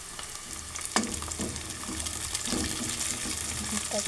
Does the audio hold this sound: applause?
no